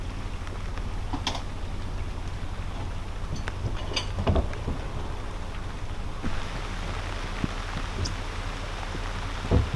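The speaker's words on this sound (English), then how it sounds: "I'm hoping we can hear the rain falling on the roof." Rain falling on the roof of a narrowboat on the Staffordshire & Worcester Canal, a steady soft patter of drops with occasional sharper ticks over a low hum.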